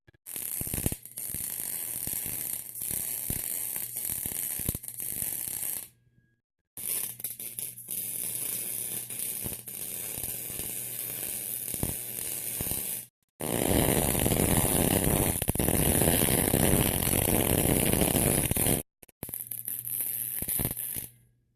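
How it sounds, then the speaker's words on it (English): A small 110-volt handyman welder welds steel bar chair legs, sounding as four long bursts of harsh continuous crackling buzz separated by brief silences, close and loud. "Now let's just get them welded off. I run a little bitty 110 handyman welder"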